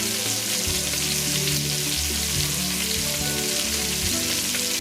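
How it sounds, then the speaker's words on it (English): Seasoned pigtails fry in hot oil in a pot over medium heat, giving a dense, steady sizzle with crackling pops throughout, close and loud with no talk. "Add some oil to a pot on medium heat and add the seasoned pigtails in."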